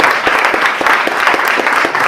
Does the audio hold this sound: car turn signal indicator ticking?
no